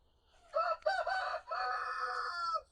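A rooster crows once in a long, loud, close cock-a-doodle-doo lasting about two seconds, starting with a brief broken note and then holding a strained, drawn-out call.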